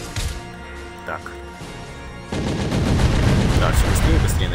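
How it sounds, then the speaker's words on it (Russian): Cannon shots from the side-scrolling brawler game Castle Crashers, a series of quick firing bursts that grow denser and louder in the second half, mixed with game music. "все быстрее и быстрее начинает стрелять эта пушка"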